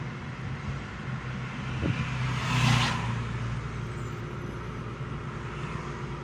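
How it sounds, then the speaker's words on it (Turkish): A car engine humming from inside the cabin as it speeds up and shifts into third gear during a driving lesson, a low steady drone that swells briefly with a soft whoosh, then settles back. "Birazcık hızlanıp arabamızı üçe alabiliriz artık."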